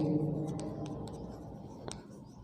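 Chalk or marker writing on a board during a class 11 physics lesson, a few short scratches and taps over a steady low room hum.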